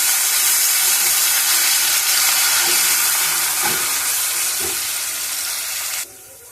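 Poppy seed paste and mustard fry in a pan, giving a broad, steady sizzling hiss that fades slightly over several seconds, with a few soft scrapes and taps before cutting off near the end.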